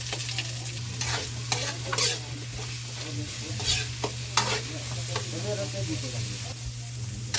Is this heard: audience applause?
no